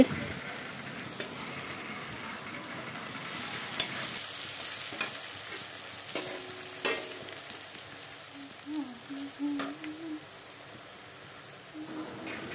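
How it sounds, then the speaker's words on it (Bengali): Onions sizzle and fry steadily in hot oil for a fish curry, a continuous crackling hiss with occasional stirring clatters and faint scrapes, no talk over it. "এখানে মাছের জন্য তেলের মধ্যে পেঁয়াজ দেওয়া হলো, পেঁয়াজটা লাল হয়ে যাক"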